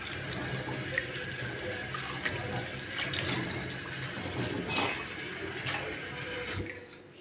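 Plums are washed in water at a sink under a running tap, with a steady splashing flow and small sloshes from handling the fruit, heard close and continuous before the water stops at the end.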